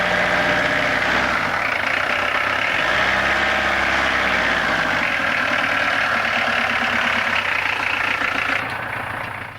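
A '90s kit car engine idles steadily and loudly up close, its rough low rumble dipping and shifting briefly as it is put into gear, then fading slightly at the end, with no voices.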